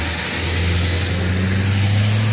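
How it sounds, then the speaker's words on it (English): A truck rolls past on a road, its engine rising into a loud, broad roar and building steadily as it draws nearer over a couple of seconds, with no talking. "I let the truck pass by."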